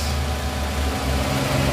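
A 2013 Toyota Yaris E automatic with a VVT-i engine idles smoothly, giving a steady, even low hum close by with no talking.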